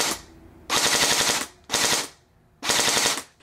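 An airsoft gun fitted with a Burst Wizard King Kong Elite mosfet fires three loud, rapid full-auto bursts up close, each a dense mechanical rattle of under a second separated by short pauses.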